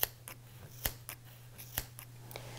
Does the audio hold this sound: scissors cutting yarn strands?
yes